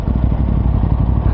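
An Aprilia RS660 Extrema sport motorcycle engine runs close by with a steady, low, throbbing rumble and slight mechanical clatter, no voices over it.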